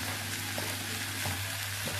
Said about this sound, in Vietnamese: chiên cái cơm chiên này lẫn trứng và dưa nó rất dễ ăn nhá